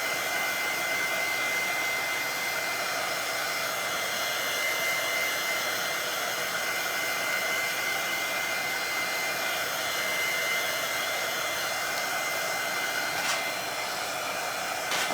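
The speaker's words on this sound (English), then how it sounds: "I think this heat tool is actually giving some color." Heat tool blowing hot air over a primitive Halloween centerpiece craft project, a continuous loud whooshing roar that holds steady throughout with no talking.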